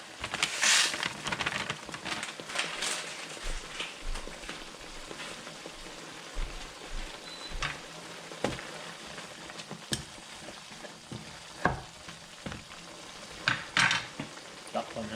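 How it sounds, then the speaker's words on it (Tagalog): Rice noodles for pancit bihon go into a boiling broth: a bubbling, sizzling wash broken by repeated sharp clanks and scrapes of utensils on the pot, close and moderately loud. "Hayaan natin kumulo. Tapos, ilagay natin yung ating bihon."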